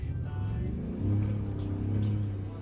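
A 2016 Ford F-150 Platinum pickup truck accelerates at full throttle, its engine rumble climbing steadily in pitch and swelling louder as it pulls away, with no talk over it.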